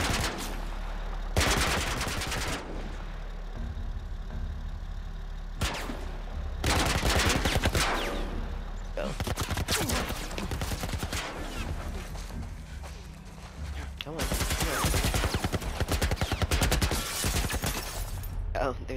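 Bursts of automatic fire from a military turret in The Last of Us, loud and sustained in several long volleys separated by short pauses, with a voice talking in between.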